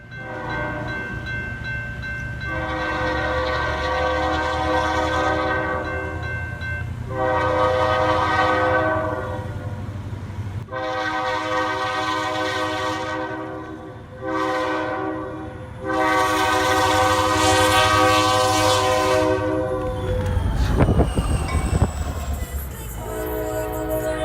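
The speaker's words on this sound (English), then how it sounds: "a Reading and Northern Railroad train moving through a picturesque winter wonderland" A Reading and Northern Railroad train moves through a winter landscape, sounding its horn in several loud blasts, mostly long with a short one, before a rumbling, clattering pass at close range near the end.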